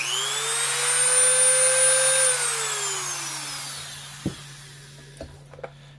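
An early first-generation Dremel Moto-Tool rotary tool, ungrounded, whines at high speed alone for about four seconds, its pitch falling gradually as it spins down, followed by a few faint clicks of handling.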